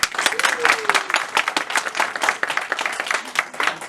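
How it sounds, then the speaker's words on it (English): An audience gives a round of applause at a children's puppet show, a dense, continuous patter of many hands clapping, fairly close and steady throughout. "Let's give them a round of applause."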